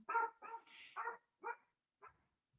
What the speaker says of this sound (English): don't know if you can hear my dog.